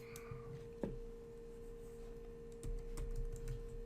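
Quiet typing on a computer keyboard, a few scattered key clicks and a firmer tap, soft and close over a steady electrical hum, with no talking.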